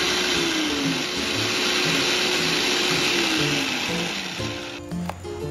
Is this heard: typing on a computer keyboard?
no